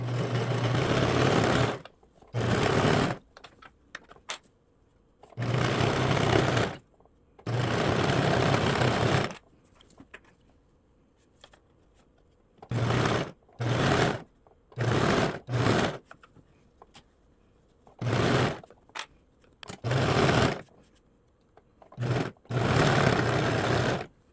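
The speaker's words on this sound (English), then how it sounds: "so we're just gonna start sewing" A sewing machine stitches the hood onto an athletic tank top, running in about ten loud, close bursts of steady whirring separated by short quiet pauses, with no talking.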